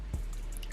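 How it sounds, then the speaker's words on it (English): A single drip-like splash as water drops into the water bowl of a Mexican fireleg tarantula's enclosure, one brief close plop with quiet background. "I'm gonna go ahead and drop the water inside of its water bowl."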